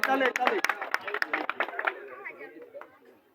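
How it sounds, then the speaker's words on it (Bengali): A crowd at a village friendly football match ceremony claps together in a dense burst that thins into scattered claps and fades away, with voices murmuring underneath. "আমরা করতালির মাধ্যমে"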